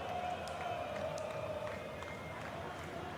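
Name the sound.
crowd cheering at marble race start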